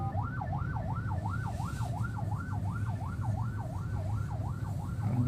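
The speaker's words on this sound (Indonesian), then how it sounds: "Ambulans Mahkamah Agung." Ambulance siren from a large Supreme Court ambulance, wailing up and down in a steady rapid cycle, loud and close over low traffic rumble, with no talk.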